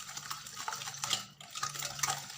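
Cake ingredients are stirred in a bowl, giving a close, busy run of clinking, scraping and soft wet swishing with a brief pause in the middle.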